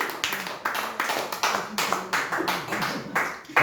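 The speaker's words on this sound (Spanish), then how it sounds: "aplaude su gloria" A church congregation claps in a quick, steady rhythm of sharp, repeated bursts, loud and close, with some voices mixed in.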